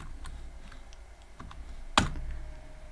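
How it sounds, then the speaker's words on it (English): Computer keyboard keys tapped in a short, irregular burst of soft clicks, with one sharper, louder keystroke partway through against a low background hum. "I'm gonna type here"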